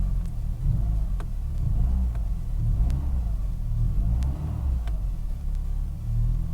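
A Renault Clio 1.4 with a check engine light and a starting fault revs in steady rumbling pulses, close and loud, with no talk over it.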